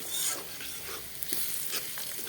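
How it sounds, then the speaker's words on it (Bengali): Continuous bright sizzling of onions frying in oil in a wok, with uneven crackles and pops, close and fairly loud, no talking. "দেখতে পাচ্ছেন আমি কড়াইতে পেঁয়াজ দিয়ে দিয়েছি তেল দিয়ে দিয়েছি"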